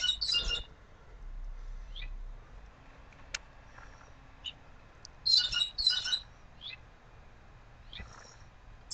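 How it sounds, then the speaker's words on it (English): Birds chirp outdoors in scattered short bursts, some louder and closer, others faint, with quiet stretches between calls. "Sorry if you can hear the birds in the background."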